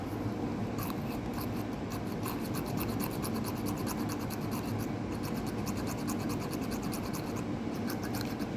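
Steady rasping and scraping as the bowl of an unclean Harriel's tobacco pipe is scrubbed and reamed, a continuous close gritty rubbing with quick repeated strokes and no talk.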